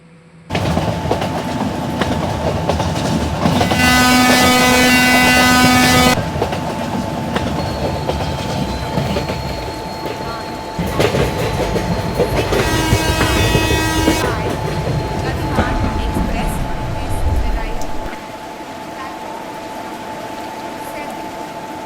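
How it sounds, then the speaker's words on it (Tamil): Train in an Indian railway video game: loud, steady rolling rumble and clatter, broken by two long, sustained horn blasts, then braking noise as the train slows and the rumble drops away, leaving a quieter hum. "அந்த பிரேக் சவுண்டு இதெல்லாம் கேட்டிருப்பீங்கன்னு நான் நினைக்கிறேன்"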